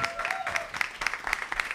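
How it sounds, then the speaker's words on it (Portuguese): Applause for the public defender's office of Rio de Janeiro at a religious-freedom commission session, a short burst of scattered hand claps with crowd murmur and a faint voice underneath. "Mais palmas para a defensoria aqui do, do Rio de Janeiro."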